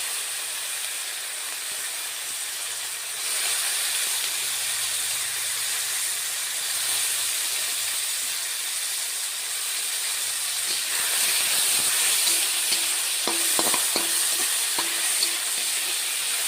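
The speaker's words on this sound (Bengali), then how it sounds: "ওই তেলের মধ্যেই কুচানো পেঁয়াজ দিয়ে দেব। এই যে কুচানো পেঁয়াজ এই তেলের মধ্যে দিয়ে দিলাম।" Chopped onion frying in hot oil for a Bengali fish-head lau ghonto, a steady broad sizzle that grows louder and busier toward the end, with a few sharp spatters near the close.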